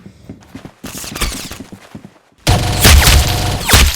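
Gunfire in the Roblox game Arsenal: loud, sharp shot bursts in uneven clusters, with a quieter patch midway before a dense, continuous stretch of rapid fire takes over.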